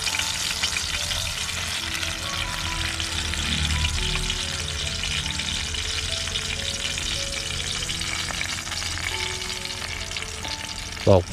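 Battered shrimp frying in oil in a home kitchen, a steady dense sizzle and crackle running the whole time, close and loud, with faint stirring and a brief clatter near the end.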